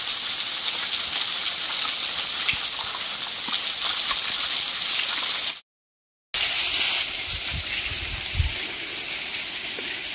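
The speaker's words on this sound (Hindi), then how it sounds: "ये देखो गिलास में पानी आ रहा है" Water gushes in a steady hissing stream into a glass outdoors by a lake, broken by a brief gap of silence before the rushing continues.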